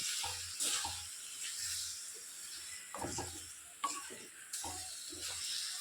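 Mango pieces are stirred in melting jaggery for a sweet mango preserve, with a soft, sticky sizzle under irregular spoon scrapes and taps against the pan, fairly quiet and close, with no talking.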